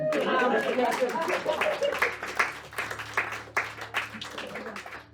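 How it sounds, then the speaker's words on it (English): Audience applause at an improv comedy show, a steady wash of clapping from a small crowd for about five seconds with some chatter and voices mixed in. "You can clap if you want."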